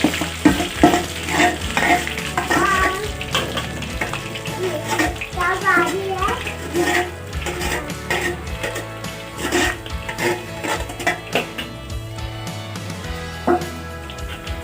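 Mashed potatoes are stirred into hot ghee in a pan for potato halwa, producing busy wet frying, squelching and spoon scraping, with a voice talking over the cooking sounds.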